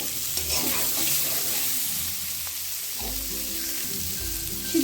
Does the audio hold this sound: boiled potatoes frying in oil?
yes